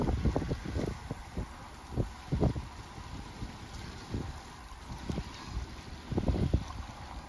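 Gusting wind buffets the microphone aboard a boat on a hot, windy afternoon, with low rumbling bursts that rise and fall in irregular surges over a faint steady hiss.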